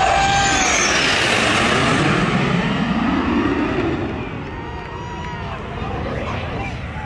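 Loud roaring jet noise as US Air Force Thunderbirds sweep low over a beach, fading slightly as they move away, with crowd chatter beneath.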